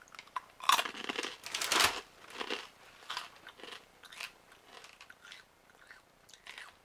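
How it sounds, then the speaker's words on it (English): Close, crisp crunching of Kashi Go Lean Crunch honey almond flax cereal, a puffed rice cereal with almond clusters, as it is bitten and chewed: loud first bites followed by a run of softer, rhythmic chewing crunches. "That's a really nice crunch to it."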